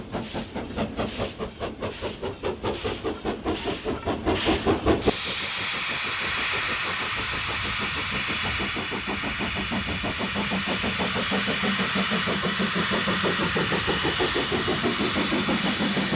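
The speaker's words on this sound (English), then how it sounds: "A long-term Thornton engine, Austerity 90472, passes through Cluny Bridge Junction at the west end of the marshalling yard with empties for Dunfermline." An Austerity steam locomotive, 90472, pulls empty wagons through Cluny Bridge Junction by the Thornton marshalling yard in Scotland, chuffing in quick rhythmic beats at first, then giving way to a steady hiss and clanking wagons rolling past.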